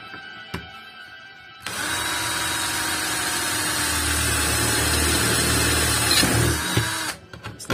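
A cheap cordless drill bores into metal, its steady motor whine running loud and continuous for about five seconds before cutting off, with no talking.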